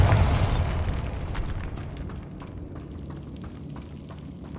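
A Bombarda explosion spell in Hogwarts Legacy sets off a heavy boom at the start that rolls into a long, fading rumble of debris and crackle.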